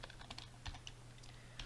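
Typing on a computer keyboard, a quick run of light, close key clicks with a soft desk thump, faint and steady without speech.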